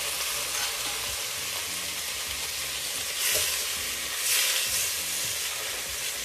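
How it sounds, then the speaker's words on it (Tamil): Tomato sautés in a pan with onion, ginger-garlic paste and green chilli for a crab masala, making a continuous close sizzle with occasional stirring swells and no speech. "இப்போ தக்காளி நல்லா வதங்கட்டும்."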